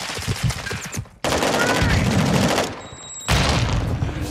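Rapid automatic gunfire in the video game DMZ rattles in long, loud bursts, broken by a brief pause before another volley.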